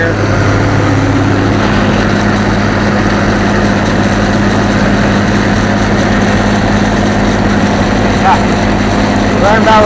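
A 525 machine's engine runs steadily and loud with its fan opened wide at about 700 RPM, a constant droning hum through the whole stretch, with some faint voices beneath it.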